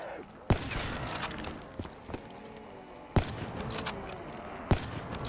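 Gunfire in a zombie survival video game: three sharp, loud shots spaced a few seconds apart, cutting through a busy, rumbling game ambience.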